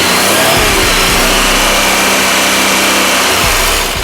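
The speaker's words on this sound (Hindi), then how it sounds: "रेस देके आप इंजन साउंड देखें।" A used car's engine revs hard during a pre-purchase inspection, a loud, close, continuous roar that holds high before easing slightly near the end, with no talking over it.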